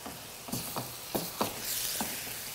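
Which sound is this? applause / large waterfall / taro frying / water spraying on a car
taro frying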